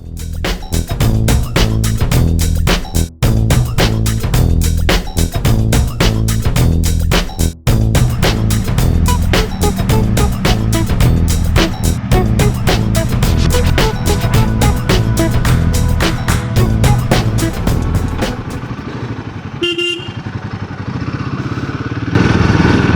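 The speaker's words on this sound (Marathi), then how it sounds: "बाईक स्टार्ट केले आणि कोल्ड स्टार्टला लावले बाईक 2 मिनटं" A Royal Enfield Himalayan 450 motorcycle engine idles up close after a cold start with a rapid, steady thumping putter for a long stretch, then cuts out briefly before rumbling again.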